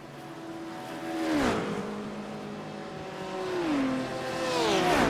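GT3 race cars at Monza in a racing game sweep past one after another, engines rising and falling in pitch through gear changes, with a second pack approaching loudly toward the end.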